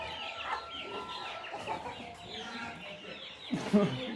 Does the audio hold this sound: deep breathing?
no